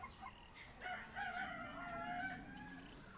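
Laying hens kept without a rooster cluck and call in a faint, continuous chorus, several birds overlapping with no voices present.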